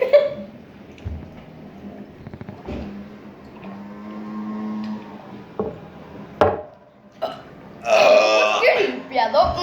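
Burps in a burping contest between siblings erupt close and loud several times among spoken chatter, with a big rough belch near the end.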